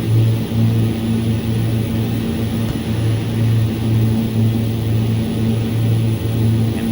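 Propeller airplane taxiing in X-Plane 11, a steady loud droning engine with a pulsing, throbbing beat that holds level throughout with no voices.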